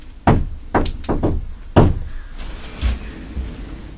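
Several loud, sharp knocks and thumps in an old homestead during a haunted house investigation, a cluster of hollow bangs followed by fainter ones, close and reverberant, with no one talking.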